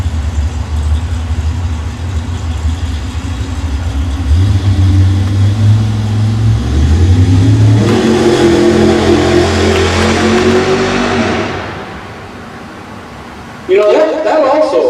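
A Pontiac Camaro race car at Pacific Raceways drag strip revs and accelerates hard, its engine pitch climbing loudly before fading into the distance, then another engine roars up close, with voices over the noise.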